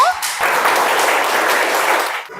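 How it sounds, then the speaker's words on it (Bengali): Audience applause at a school quiz competition at Sher-e-Bangla Nagar Government Boys' High School, a loud, dense burst of many hands clapping that holds steady for about two seconds before tapering off. "হাততালি হবে ওর জন্য"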